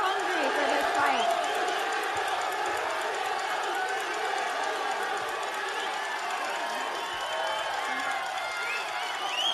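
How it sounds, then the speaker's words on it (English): An excited crowd cheers and shouts steadily throughout at the Canelo Alvarez vs. Gennady Golovkin boxing press conference in NYC, a dense roar of many voices with scattered whoops and claps at even loudness. "We've got a very excited crowd here today."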